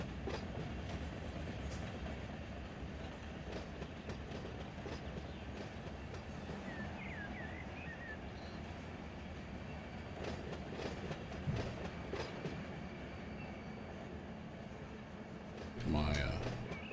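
Freight train in Run 8 Train Simulator pulling a cut of cars, a steady low rumble with faint rhythmic wheel clatter and occasional squeals, under a voice talking.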